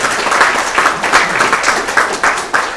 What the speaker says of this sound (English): you guys are amazing, and you deserve a round of applause